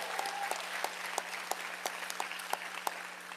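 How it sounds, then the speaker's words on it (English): Sparse, thin clapping at a school board meeting honoring teachers of the year, about ten regular claps, as if only a few hands are applauding over a faint steady hum. "Let's give a round of applause for our 2019-20 Teachers of the Year."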